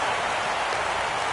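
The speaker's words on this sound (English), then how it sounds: "Rain continues to fall here in the 6th" Steady, even hiss of rain falling during a baseball video game, a continuous broadband wash of drops with no pauses.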